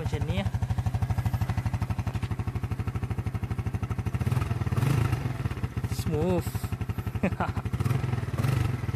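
A SYM Sport Rider 125i fuel-injected motorcycle idles close by with a steady rapid thumping pulse, briefly swelling with light revs, while someone talks over it.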